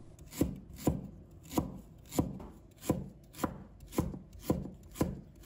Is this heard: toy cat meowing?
no